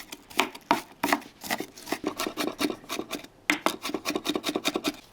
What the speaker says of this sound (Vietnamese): Chuẩn bị thêm 1 củ hành tím băm nhuyễn nè.